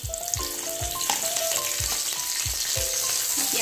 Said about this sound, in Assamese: এতিয়া মোৰ পিঁয়াজখিনি ফ্ৰাই হৈ আছে